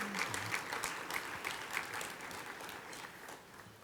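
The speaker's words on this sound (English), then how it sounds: "Y'all can clap for that." Audience applause at a Better Buildings Summit keynote address, a brief burst of clapping from a crowd that swells at once and then gradually fades over a few seconds.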